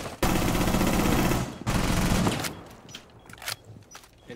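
Rapid automatic gunfire in Rainbow Six Siege bursts loudly for about two seconds, pauses briefly, resumes, then gives way to scattered lighter shots and clicks.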